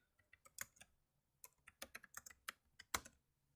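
Keys clatter on a computer keyboard in uneven bursts of quick, crisp taps separated by short pauses, close but quiet, with no talking.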